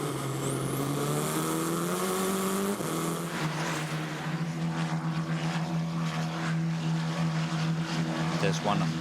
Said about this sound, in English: Here we are on board with Nylund, who made the most of the overtakings today